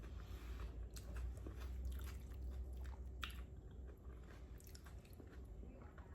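Someone chews green and Savoy cabbage during a Southern-style meal. Steady wet biting and crunching sounds continue close to the microphone for several seconds, with no talking.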